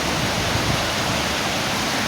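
Steady, dense roar of a waterfall heard from close by in a national park, a continuous broadband rush of falling water with no pauses and no voices.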